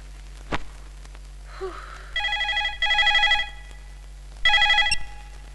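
A landline telephone rings in two electronic bursts, then a third after a pause, fairly close and clear against a quiet room with a low hum.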